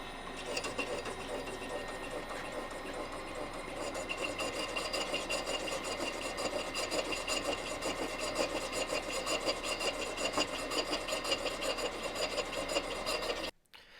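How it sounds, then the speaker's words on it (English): A milling machine fly cuts across a scrap-built metal rotary table with a continuous, dense rasping grind and fast periodic ticking, steady and close for most of the run before stopping abruptly near the end. "I'm just going to go ahead and fly cut the whole thing"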